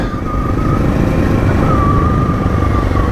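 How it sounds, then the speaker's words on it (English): Motorcycles ride past as a big bike engine drones steadily and loudly nearby, with a faint rising and falling whine over the continuous roar. "Oh, the boys on their big"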